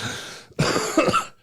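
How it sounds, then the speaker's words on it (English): A person coughs in a short rough burst after a brief pause, nearby and fairly loud, with no talk. "It still makes me cough a little bit"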